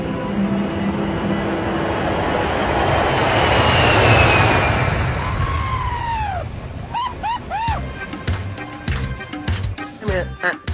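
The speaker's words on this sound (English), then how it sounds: "it's a miracle the jumbo jet even lifts off the ground" A jumbo jet takes off with a loud, broad engine roar that swells and then fades, followed by a busy stretch of chirping, clattering sounds near the end.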